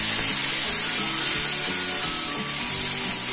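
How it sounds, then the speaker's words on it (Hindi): Masala puree with red chilli sizzles and fries steadily in a pan for matar paneer, a close, continuous crackling hiss with faint stirring scrapes and no talking. "तो ये देखिए मसाला हमारा अच्छे से भुन रहा है"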